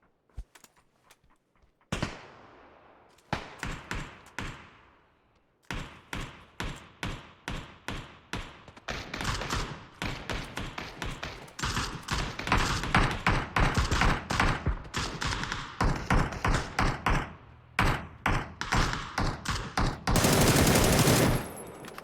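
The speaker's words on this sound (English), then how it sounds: "Shots being shot out there by Morns." Rapid bursts of gunfire from an esports shooter match crack out close and loud in clustered volleys, with brief pauses between strings of shots and a dense sustained burst near the end.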